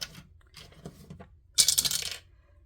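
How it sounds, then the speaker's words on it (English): Two dice rolled for a savings challenge game, several quick light rattles and clicks followed by a brighter clattering tumble that settles, close and alone without talk. "Roll 2 dice and add."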